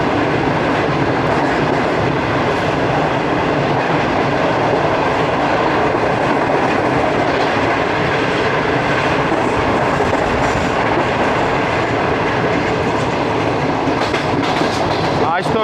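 A Pakistan Railways train runs steadily along the tracks with a loud, continuous roar and rhythmic clickety-clack of wheels over rail joints, heard close up from on board.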